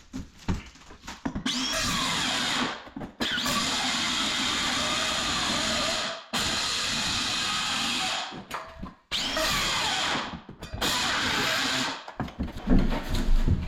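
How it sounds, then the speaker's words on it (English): A multi-tool cuts into wood with a loud, buzzing, oscillating whine in several long bursts. Short silences separate the bursts, and the tool sounds close. "We'll just have to use the multi-tool for the rest of that."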